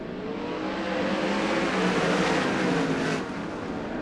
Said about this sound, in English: Didiuk and Heath coming off the corner. We are green